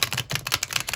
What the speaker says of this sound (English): forget how much I love the shuffle of these cards. So I'll shuffle,